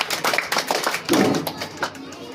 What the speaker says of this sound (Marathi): टाळ्या वाजवा पुरंदर गटासाठी